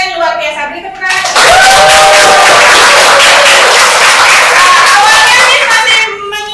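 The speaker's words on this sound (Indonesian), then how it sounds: "Beri tepuk tangan." Loud, dense applause from a classroom audience of students fills the air for several seconds after a teacher's brief remark, then tapers off as she begins speaking again.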